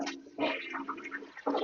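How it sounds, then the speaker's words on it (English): Test flush of a rebuilt Kohler Highline Curve toilet, a close rushing swirl of water that surges, eases, then surges again, quiet overall with no talk. "Now that we have this dialed in, let's give it some test flushes and see what happens."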